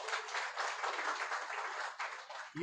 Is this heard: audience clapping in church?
yes